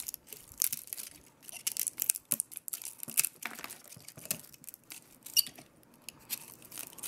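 Scales cut off a pine cone, a string of close, dry snips, cracks and crinkling crunches in an irregular rhythm, fairly faint and alone with no talk.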